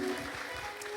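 A church congregation bursts into loud, continuous clapping mixed with high ululation, a dense and steady wall of praise filling the room for a moment.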